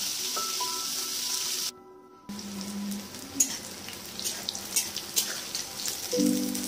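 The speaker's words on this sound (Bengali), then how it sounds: "সর্ষে তেল দিয়ে বেগুনটা ভেজে নেবো" Steady sizzle of eggplant frying in mustard oil, with scattered pops and crackles, a short gap partway through, then sizzling resumes with a few light clinks.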